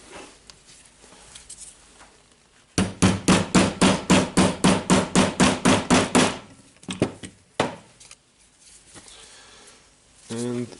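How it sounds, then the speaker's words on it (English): A long socket is hammered against a part of a Makita 18V LXT DDF456 drill during disassembly, giving a fast, even series of about a dozen loud metallic blows, then a few scattered taps and a short voice. "I will hammer it again with the long socket."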